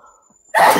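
A single sharp sneeze bursts out loud and close after a near-silent moment, ending the short stretch abruptly.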